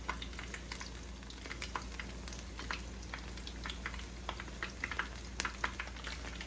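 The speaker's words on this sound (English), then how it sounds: "So I'm gonna allow these to fry for about 6 to 8 minutes in total." Chicken pieces frying in oil on medium heat for sweet and sour chicken, a steady close sizzle scattered with small crackles and pops, with no voices.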